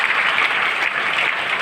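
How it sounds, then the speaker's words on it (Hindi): Steady, dense clapping from an audience at a health training program event in Fatuha, Bihar, loud and continuous throughout with no voices over it. "तीनों गेस्ट के लिए दोनों हाथों से जोरदार तालियां"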